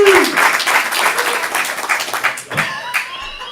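Crowd applause at a stand-up comedy student showcase, a burst of clapping that thins out over a few seconds, with a voice speaking over the tail.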